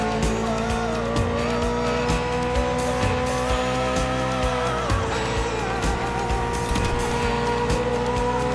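Gymkhana car in The Crew Motorfest, engine roaring hard as tires squeal and skid continuously, loud and close with no talk.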